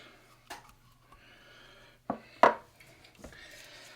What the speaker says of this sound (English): we'll start scraping out the bowl